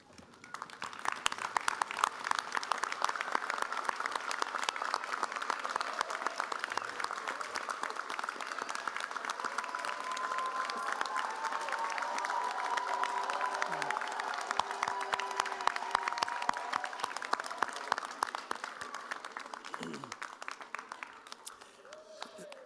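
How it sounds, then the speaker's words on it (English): A long, sustained round of applause from the audience at a medical college members' and fellows' ceremony in Manchester, dense even clapping that holds steady for about twenty seconds before tapering, with faint voices underneath. "invite our new members and fellows to stand and give them a round of applause"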